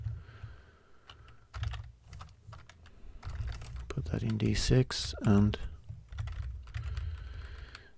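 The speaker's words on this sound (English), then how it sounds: "sorry about the noise from the keyboard." Rapid clicking keystrokes on a computer keyboard run throughout, close and steady, while someone speaks quietly over the typing about Amiga hardware programming.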